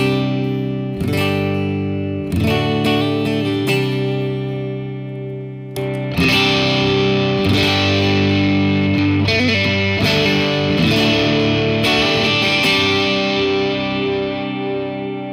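Electric guitar through an Atlantis Overdrive pedal by Throne Room Pedals plays sustained chords and riffs with a warm, gritty crunch, steady and fairly loud throughout with no voices.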